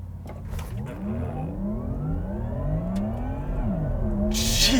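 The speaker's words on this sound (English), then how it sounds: "'22 Porsche Taycan GTS Sport Turismo with launch control." A 2022 Porsche Taycan GTS Sport Turismo electric car launches under launch control, its motor whine sweeping steadily up in pitch over a constant rush of road and wind noise that builds as it speeds up.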